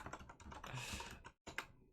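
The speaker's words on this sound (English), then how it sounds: "Typing." Quick computer keyboard typing, a fast run of soft clicking keystrokes with a short pause before a final few taps, heard faintly and without speech.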